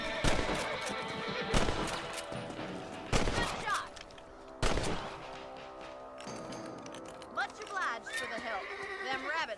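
Rifle gunfire in the Red Dead Redemption game, several loud sharp shots in quick bursts mixed with horse neighs and clip-clop hoofbeats, while someone talks in between.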